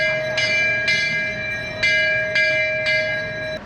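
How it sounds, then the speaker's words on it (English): A bell rings out in Georgetown, Penang, with five sharp evenly spaced strokes, each ringing on with a clear sustained tone in the open air. "I guess they're ringing the bell now."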